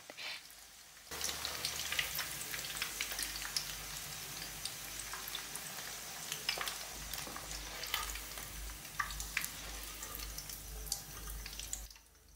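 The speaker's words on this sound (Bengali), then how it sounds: "মাশরুমগুলো গোল্ডেন হওয়া পর্যন্ত ভেজে নেব" Mushrooms frying in hot oil until golden give a steady, dense crackling sizzle from start to finish, with occasional stirring scrapes. No one speaks.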